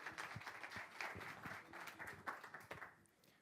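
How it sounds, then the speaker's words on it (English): Audience applause at a tech meetup hangout, a steady wash of many hands clapping at moderate level with faint voices underneath, tapering off near the end. "Give the man a round of applause"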